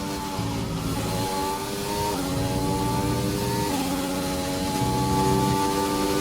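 A pink Mercedes Formula 1 car in F1 2020 lapping the Austria circuit, its engine note whining steadily and continuously, rising through the gears with brief dips at each upshift, loud and close throughout.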